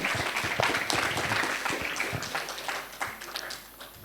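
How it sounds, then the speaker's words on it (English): Conference audience applause welcoming a keynote speaker at a plenary session, a moderate, somewhat thin round of clapping from a modest crowd, steady and then easing. "A round of applause."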